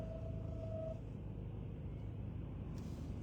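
Road traffic drones past on a town street, a steady low rumble of cars with a brief higher tone near the start, heard at moderate distance without talk.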